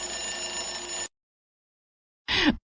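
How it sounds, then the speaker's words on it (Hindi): A bright electronic alarm clock ring sounds for about a second at 5 a.m., stops, then briefly starts again after a short silence. "अगली सुबह 5 बजे फिर से अलार्म बजने लगा।"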